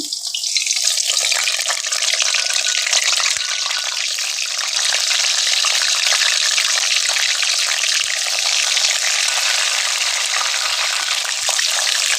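Tempeh frying in hot oil in a pan while sayur lodeh is being cooked gives a steady, loud, close sizzle and crackle that runs unbroken throughout, with no voices.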